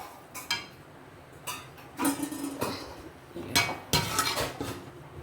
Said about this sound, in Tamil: இப்போ நம்ம பிளேட் போட்டு மூடிடலாம்